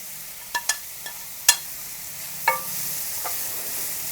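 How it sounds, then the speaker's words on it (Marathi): Shredded cabbage and capsicum stirred on an iron dosa tawa, with a soft steady sizzle and several sharp, separate scrapes and taps of the spatula against the iron, close and without speech. "कोबी थोडासा परतवून घ्यायचा. लगेच तुम्ही शिमला मिरची घातली चालू शकते."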